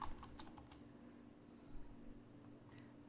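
Soft, quick taps on a computer keyboard while entering a name into Ansys simulation software, a few faint clicks in a short run over quiet room hum.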